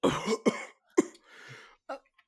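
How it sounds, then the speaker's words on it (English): A voice acts out a role-play character's coughing fit during a gothic tabletop game: a few harsh, close coughs and throaty rasps in quick succession, followed by a wheezy breath. "Corvo just starts like going into this coughing fit"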